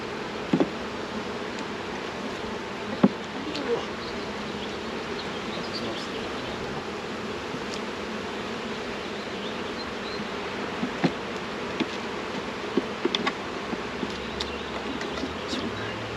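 Honey bees swarm out of a dropped full hive box in a dense, steady buzz close by, with faint rustles and clicks now and then and no talking.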